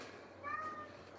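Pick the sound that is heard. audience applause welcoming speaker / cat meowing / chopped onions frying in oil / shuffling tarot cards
cat meowing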